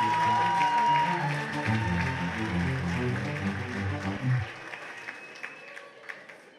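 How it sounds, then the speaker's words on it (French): An audience applauds a contestant at the Miss NC 2020 pageant, steady crowd clapping that swells and then thins out toward the end. A voice and a low music bed run underneath. "On peut l'applaudir bien fort, merci pour elle."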